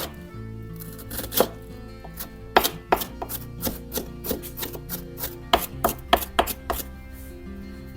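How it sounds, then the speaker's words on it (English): A knife mincing onion on a cutting board for vegan mac and cheese, with sharp irregular chops that come in quick bursts and pauses, close and clear over a faint low hum. "I need 6 tablespoons of minced onion"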